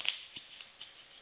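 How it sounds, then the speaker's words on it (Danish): A deck of playing cards is shuffled in a few quick riffling bursts, soft and close, with brief papery flutters and no talking. "Og så blander vi på den her måde her."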